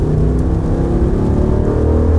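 A 2022 Jeep Grand Wagoneer's engine pulls hard under heavy acceleration, a loud, steady low drone and whir from inside the cabin with no talking over it.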